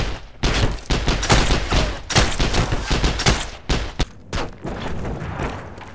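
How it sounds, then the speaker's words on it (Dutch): Rapid bursts of gunfire crack in the Heroes & Generals war game, with many sharp shots in quick fusillades, some close and loud and others trailing off, over several seconds. "En daar wordt er ook geschoten."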